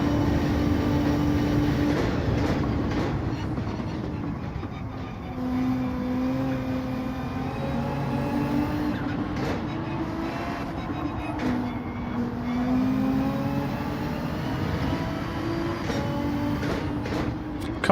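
Gran Turismo 7 Gr.3 race cars, with a Ferrari among them, drive around the Trial Mountain circuit. Engines drone steadily and shift pitch through gears over eighteen seconds, a constant loud mechanical hum.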